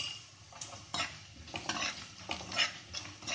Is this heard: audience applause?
no